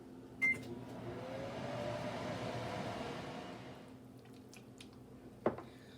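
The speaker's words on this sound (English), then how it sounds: "I'm just going to microwave it" A microwave oven hums steadily for several seconds while melting caramel, with a click at the start and a short clunk near the end.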